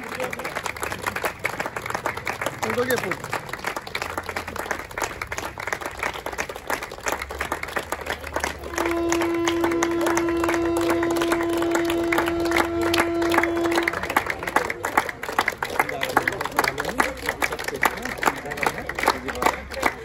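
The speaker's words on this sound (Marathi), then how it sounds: "सर्वांनी जोरात टाळ्या वाजवायचे." A crowd at a foundation day celebration claps loudly and rhythmically, sharp dense claps filling the space for the whole stretch, with a sustained tone in the middle and voices mixed in.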